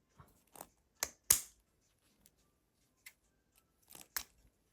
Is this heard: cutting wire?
yes